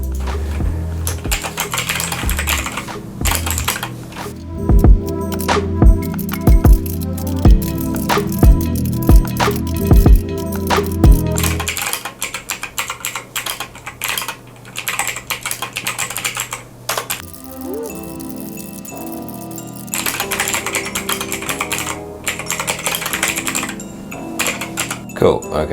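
Rapid, continuous typing on a clicky mechanical keyboard, sharp dense key clicks close up, running through a typing test while someone talks over parts of it.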